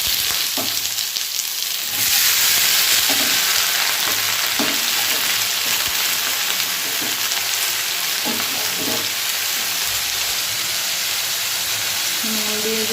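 Ridge gourd pieces drop into hot oil with whole cumin, and the pan bursts into a loud, dense sizzle that keeps going, broken by occasional scrapes of a spatula.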